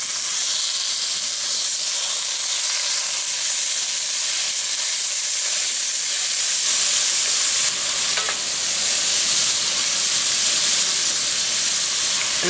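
Ground meat browns in a hot camp pan for chili, giving a steady, loud sizzle and hiss that runs without break, close up and alone with no talking.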